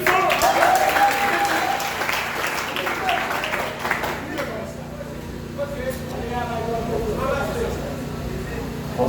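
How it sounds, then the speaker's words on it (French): Sustained audience applause at a French eloquence contest evening, loud and steady across the whole stretch, with a voice speaking over it in the opening seconds before the clapping carries on alone. "Une dernière fois, on applaudit"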